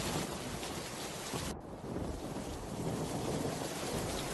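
Heavy rain pours in a cartoon village scene, a dense, loud, continuous hiss with low rumbling thunder underneath and a brief dip partway through, with no voices.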